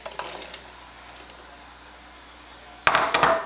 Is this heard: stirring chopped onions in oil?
yes